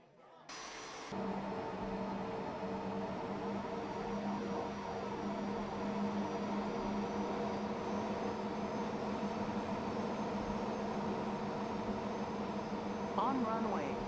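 A Bombardier Global Express business jet on runway 01 left, its engines giving a loud, steady roar with a whining tonal hum that holds for the whole stretch, close and continuous.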